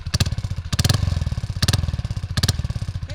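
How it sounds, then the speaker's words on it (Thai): A Honda-style 110i motorcycle engine blips its throttle in short bursts, four sharp revs rising over a rough, close idle with a rapid putter between them. "ขอเบิ้ลแบบนิดเดียวพอนะครับเกรงใจสถานที่ฟังเสียง"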